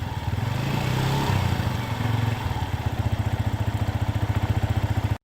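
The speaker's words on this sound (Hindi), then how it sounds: "अरे बेटा बाइक स्टार्ट कर रहे हैं, रुको जरा।" A motorbike engine idles just after being started, a steady close chugging with a fast even pulse that stays loud and continuous, ending in a sudden cut to silence.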